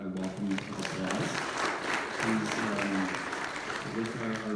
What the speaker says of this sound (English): let's give Matthew a welcome applause